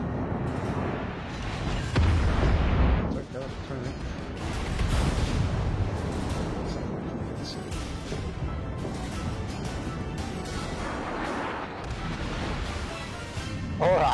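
Warship guns firing high-explosive shells in a naval video game: heavy booms and crashing impacts with rumbling tails, loudest early on, followed by scattered lighter hits and clatter in a busy battle mix.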